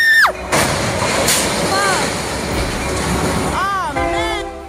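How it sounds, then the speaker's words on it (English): A roughly 1,500-ton locomotive rolling through a crossing, loud and close, with a continuous rumbling roar and sharp tonal horn blasts near the start and end, while people shout in the background. "Did he even see the train coming?"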